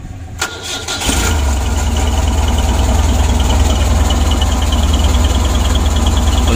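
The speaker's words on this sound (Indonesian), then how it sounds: "Untuk mesinnya sudah hidup." A worn engine that needed a teardown, with a fouling spark plug and rough misfiring, fires up after repeated starter attempts and settles into a loud, steady, shaky idle rumble, close by and without talk.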